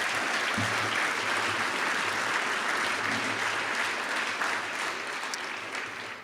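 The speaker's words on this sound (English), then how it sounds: "Let's give them and their entire staff a round of applause." Steady, loud applause from a large audience, continuous throughout and slowly tapering at the end, with a faint low hum underneath.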